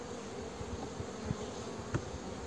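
Honeybees in an opened hive make a steady, dense buzz at close range, holding level and unbroken with a few faint knocks behind it.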